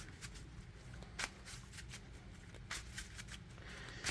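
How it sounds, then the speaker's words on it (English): Close, quiet riffle shuffling of a Yu-Gi-Oh Dark Magician trading card deck, crisp repeated snaps at a steady pace with nothing else heard. "we'll shuffle some more here because that was kind of quick."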